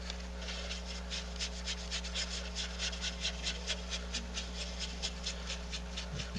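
Rhythmic scrubbing of weathering onto a model railway car, a quick regular brushing rasp repeating steadily throughout over a low constant background hum.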